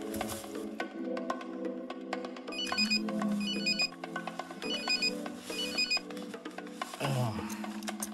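A phone alarm rings on and off in repeated tonal bursts over several seconds, moderately loud and close, with background sounds between rings.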